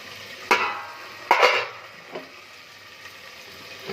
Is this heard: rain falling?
no